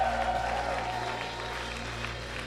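A church congregation applauding to acclaim the Lord, a steady wash of many hands clapping at moderate distance that carries on without a break and eases slightly toward the end.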